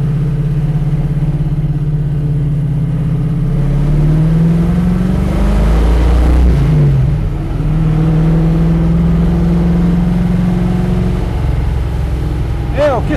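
Mustang Shelby GT500 tribute V8 with aggressive camshaft and Quadrajet carburetor, revving in a garage: a deep, loud engine drone with a rising rev swell midway, continuous throughout with a voice talking over it.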